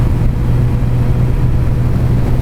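Superbike motorcycle cruising steadily at 70 mph just under 4,000 RPM, a continuous low engine drone mixed with wind roar, loud and unbroken with no talk.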